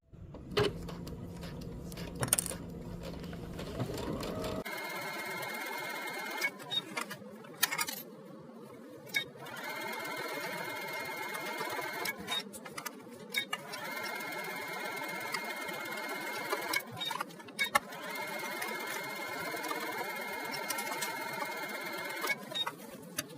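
A sewing machine stitches and understitches fabric in long steady runs of rapid mechanical chatter, pausing briefly a few times between bursts, close and fairly quiet; a short stretch of other handling noise comes first.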